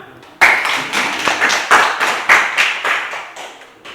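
Elementary school students in an Indonesian classroom clap their hands in unison for a classmate, a sharp rhythmic pattern of about a dozen loud, close claps in a short chant-like beat.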